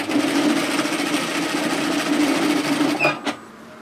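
An overlocker runs at high speed stitching a knit tee, a loud, steady mechanical whirr that stops abruptly near the end, leaving a couple of small clicks.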